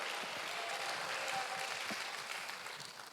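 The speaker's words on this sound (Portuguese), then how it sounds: "Aplauda o Senhor, dê um brado de vitória." Church congregation applauding during a worship service, a dense, steady patter of many hands clapping throughout at moderate volume, easing slightly toward the end.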